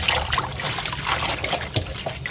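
Water trickles and splashes softly as picked leafy greens are washed by hand, with small irregular drips and swishes at a low, close-up level.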